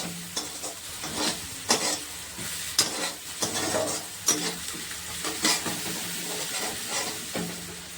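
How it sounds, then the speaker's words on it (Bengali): Ginger fries in a pan with turmeric, crackling and hissing close by while a spatula scrapes and stirs in repeated bursts roughly every second, with no talk. "আদা দিয়ে দিলাম, আদাটা ভেজে নেবো সুন্দর করে।"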